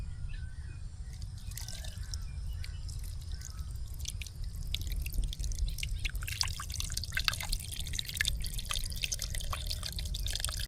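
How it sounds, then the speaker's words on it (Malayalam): Squeezed tamarind water is poured into a fish curry, producing soft drips and trickling splashes that grow busier and louder over a quiet, steady background. "പുളിയൊക്കെ പിഴിഞ്ഞ് സെറ്റാക്കിയിട്ടുണ്ട്. നമുക്കങ്ങോട്ട് ഒഴിച്ചു കൊടുക്കാം."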